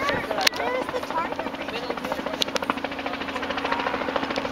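Helicopter flying overhead on a sunny afternoon over a crowded Salt Spring Island event, a steady rotor chop throughout with crowd noise around it.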